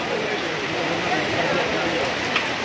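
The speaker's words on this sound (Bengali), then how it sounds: "ঝুম বৃষ্টি হচ্ছে" Heavy rain pours over the Sunday broiler chicken market at Ullapara, Sirajganj, a steady dense hiss with no letup, with faint voices murmuring beneath the downpour.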